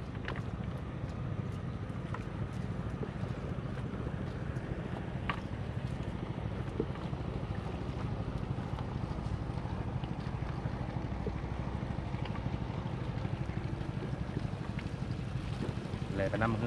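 A boat motors along the Mekong River at Luang Prabang, Laos, with a steady low engine drone and wind buffeting the microphone throughout.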